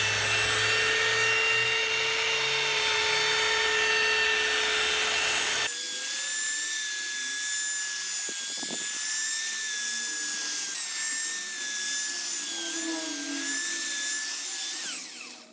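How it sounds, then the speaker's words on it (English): A belt sander reshapes and rounds the corners of an old wooden coffee table, giving a continuous high, whining grind up close that shifts pitch midway and carries on steadily until it winds down. "using the belt sander, I reshaped and dressed the round corners"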